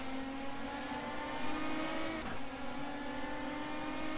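A Megane Trophy race car in rFactor 2, its engine holding a steady, droning high rev with a faint brief blip midway, sounding continuous and close.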